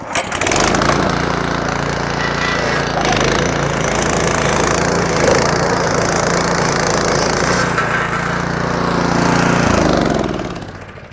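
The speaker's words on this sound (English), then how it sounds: "I'll show you what this is gonna look like after we power rake this" Gas-powered power rake dethatching a lawn, its engine running loud and steady close by with a rough, clattering drone that barely changes throughout.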